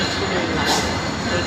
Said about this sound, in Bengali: এই যে এই পাশে ট্রেন চলে আসছে